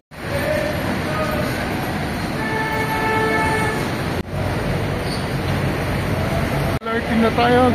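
A Manila LRT light rail train riding along, a steady loud rumble of wheels and carriage noise with brief tonal squeals and a couple of short drops, voices faintly mixed in.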